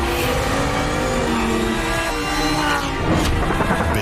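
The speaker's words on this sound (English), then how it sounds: "Based on the progressive roar of the engine." A Lamborghini Huracan STO supercar engine roars continuously, a loud dense growl with rising tonal harmonics and a brief harder surge near the end.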